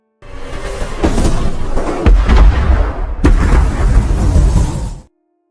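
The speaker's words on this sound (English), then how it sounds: "some strange objects fall from the sky and crash into the city, causing a huge explosion in the area" Loud rumbling blasts and crashing booms roll on for several seconds, with a sharp second impact midway, heavy and close.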